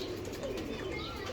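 Lakha breed pigeon cooing softly, a low steady murmur with a faint chirp near the end, close by and alone with no talk.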